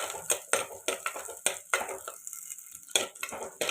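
Garlic and small onions are stirred and sautéed in a pan, a quick series of scraping and clinking utensil strokes over a light sizzle, close by with no speech.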